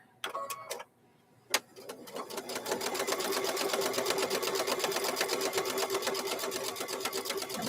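A sewing machine stitches across a piece of purple fabric while making a quilted microwave bowl koozie. A few clicks come first, then a steady, close, rapid mechanical whir runs alone to the end.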